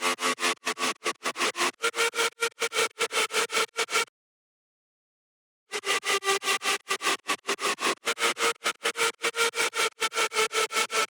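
A synth lead melody from an electronic track drop plays alone in a fast, choppy rhythm of bright, gated notes, cutting to silence for over a second before resuming.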